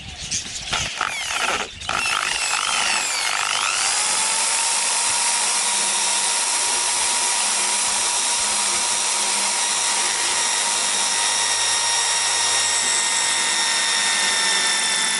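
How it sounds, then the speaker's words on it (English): A power drill grinds and whines loudly and steadily, drilling out a steel bolt, for a long stretch after a few brief starts, its pitch holding nearly constant. "put the drill in the hole and drill that bolt out"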